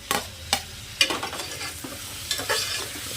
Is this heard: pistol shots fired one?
no